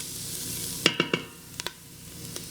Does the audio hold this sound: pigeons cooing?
no